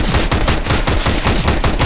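Rapid automatic gunfire from a shooting video game, loud and close, with dense bursts of shots in a fast steady rhythm.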